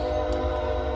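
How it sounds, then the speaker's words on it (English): A passing train rumbles steadily in the background, a low continuous drone with a faint sustained horn-like tone, heard briefly and alone. "and I apologize for the train."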